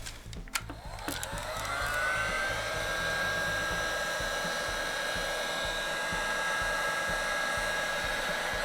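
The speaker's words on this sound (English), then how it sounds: "when you have the heat gun and you want to spread it out more, you can point it at it" A heat gun blows hot air onto crayons to melt them for crayon art, a steady close whooshing hiss with a faint high whine that starts after a few clicks and a brief spin-up, then runs on evenly alone.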